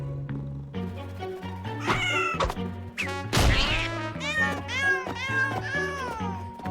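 A cartoon cat meows repeatedly in a series of plaintive, drawn-out cries with a brief louder squeal in the middle, close and clear.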